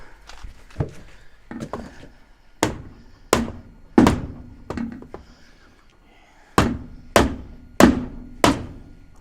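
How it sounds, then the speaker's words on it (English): Hammer blows on a home-made camper trailer while an awning is fitted, sharp metallic strikes in irregular clusters of two or three, some single hits, close and fairly loud with quiet gaps between. "Try to use a lighter hammer."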